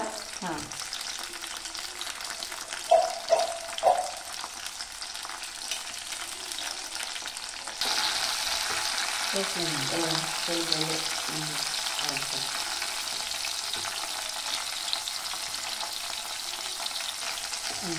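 Whole green chillies fry in oil in a pan over a low flame, a soft continuous sizzle with occasional clinks of a utensil stirring, which grows slightly louder partway through; no one speaks.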